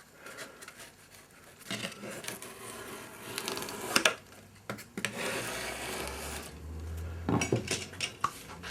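Chisel bevel scraping carbon out of a groove in wood, a series of rough, gritty scrapes and clinks in irregular bursts, close and fairly quiet with short pauses between strokes.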